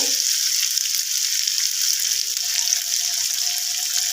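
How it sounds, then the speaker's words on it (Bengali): A spice bowl is washed under running tap water in a home kitchen, a loud steady close rush of water with faint clinks, no talking. "মশলার বাটিটা ধুয়ে"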